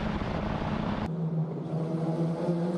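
An F4 open-wheel race car slows hard into the heavy braking zone at turn 12 at Circuit of the Americas in Austin. A loud, steady engine roar drops abruptly in pitch as the car brakes, then continues lower and constant.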